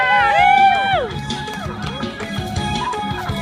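Crowd cheering and shouting at a hotel staff color sports day in Buriram, Thailand, loud and close, with a whistle-like rising tone at the start and rhythmic clapping and chanting throughout.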